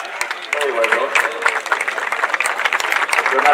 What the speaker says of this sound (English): we give them a round of applause because it was a brilliant match